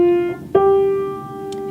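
Keyboard sounding F then G, a major second, as two sustained electronic-sounding tones in sequence, clear and close, with no talk.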